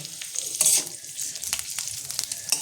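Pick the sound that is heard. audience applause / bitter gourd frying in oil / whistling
bitter gourd frying in oil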